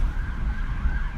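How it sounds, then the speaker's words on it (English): Police car sirens wail steadily during a high-speed chase, heard over a dense low rumble of road and engine noise, moderately loud and continuous. "you can hear sirens coming from all directions"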